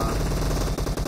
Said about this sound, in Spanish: Una M4 para disparar a largas distancias